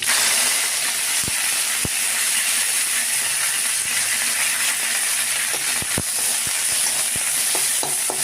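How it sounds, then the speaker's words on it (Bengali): Curry leaves sizzle in hot ghee with mustard seeds in a wok for suji upma, a continuous hiss of frying broken by scattered utensil taps and clicks. "এবারে কারি পাতা দিলাম।"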